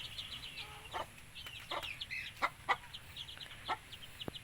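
A small chick peeps in scattered thin, high chirps, a few brief calls at irregular intervals over quiet background noise.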